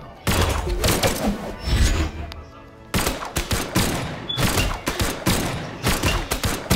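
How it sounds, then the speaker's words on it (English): Rapid gun attacks in the fighting game Brawlhalla, bursts of quick repeated shots in clusters with short gaps between volleys, loud and close, punctuated by thuds. "bots kind of suck when it comes to avoiding gun attacks"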